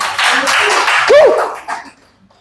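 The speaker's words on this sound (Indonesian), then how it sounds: "Tepuk tangan buat Tuhan Yesus." A church congregation claps in a short, loud burst of overlapping hands, joined by a brief whoop-like voice, before dying away into near silence after about two seconds.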